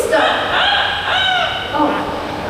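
An Amazon parrot at a bird park mimics a rooster's crow: one loud, drawn-out, warbling call with rising and falling tones, close to the microphone and heard alone.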